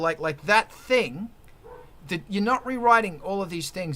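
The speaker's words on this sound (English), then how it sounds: "I'm sorry about the dogs" Dogs bark in the background of an indoor talk, a few short yips and woofs rising through the voice of someone speaking continuously over them.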